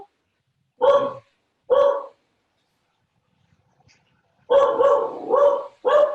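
A dog barks at a package being delivered, giving two sharp single barks, then a pause, then a rapid burst of four barks, fairly close and loud with no talk.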